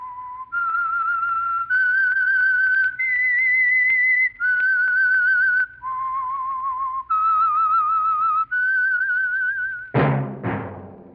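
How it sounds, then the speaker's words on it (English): A lone whistler performs the Whistler radio program's signature tune, a clear melodic series of sustained notes stepping up and down. It ends in a sharp, bright orchestral chord that fades out. "That whistle is your signal for the Signal Oil Program, The Whistler."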